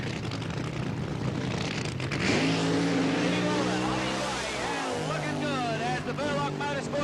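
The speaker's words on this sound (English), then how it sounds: "The Burlock Motorsport funny car goes down the bottom end of the racetrack." A supercharged funny car at a 1988 drag racing event at Calder Park Raceway roars down the quarter mile, a loud engine rising and then receding, with a commentator talking over it.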